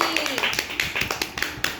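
A few hands clap in a quick, uneven burst of sharp, close slaps during a Rabindra dance lesson, with children and a teacher's voice around them.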